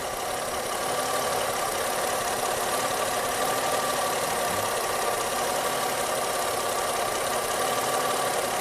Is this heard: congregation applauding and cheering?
no